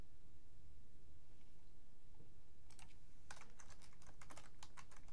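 Quiet typing on a computer keyboard while composing a message, a few soft keystrokes followed by a steady run of light clicks over a faint background hum.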